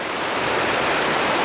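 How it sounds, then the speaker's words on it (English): A multi-tiered waterfall at Fossil Creek pours in a loud, steady hiss of rushing water, close and unbroken, with no voices. "I got so many tiers of the waterfall coming down."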